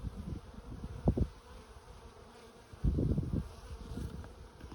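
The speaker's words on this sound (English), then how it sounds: "The bees are starting to get upset at me." Honey bees buzzing around an opened hive during a frame inspection, a steady faint drone with a few louder swells as agitated bees pass close to the microphone.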